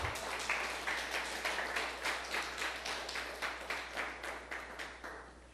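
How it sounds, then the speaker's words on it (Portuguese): A church congregation standing claps in unison with a steady, rhythmic beat, about three claps per second, sustained throughout over a low hum. "Vamos aplaudir o Senhor Jesus."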